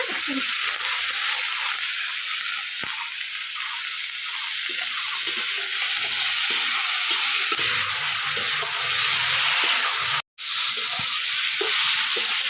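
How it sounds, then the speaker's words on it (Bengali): Potatoes and vegetable stalks fry loudly in hot oil, a dense continuous sizzle with occasional stirring clatter and a brief dropout near the end. "আলু আর ডাটা ভাজা অর্ধেক হয়ে গেছে"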